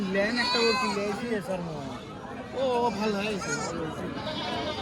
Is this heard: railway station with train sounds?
no